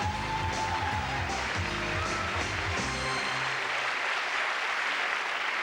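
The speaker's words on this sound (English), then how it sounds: "Big round of applause, please." Audience applause for the ten grand finalists at the Manhunt Senior 1994 pageant in Singapore, a dense continuous clatter of clapping over a music bed that fades out partway through, with no talking.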